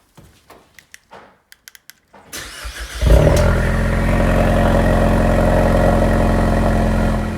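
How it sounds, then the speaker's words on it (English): A tuned 2019 Ford Mustang EcoBoost cold-starts in a small garage: a few clicks and a cranking whir, then the engine catches with a loud burst and settles into a steady, loud, high idle. "let's get a little cold start in here."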